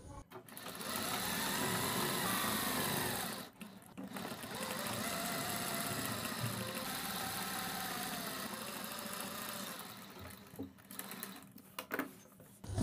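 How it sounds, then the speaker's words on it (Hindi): A sewing machine stitches cloth along buckram for a blouse neck, running loud and steady for long stretches with a brief pause and short stop-start bursts at the end. "और उसके बाद हम बुकरम के बराबर बराबर सिलाई लगाएंगे"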